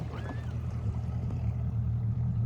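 A bass fishing boat's outboard motor idles on the water at Santee Cooper, a steady low rumble that runs throughout, close and even, with faint water and open-air noise.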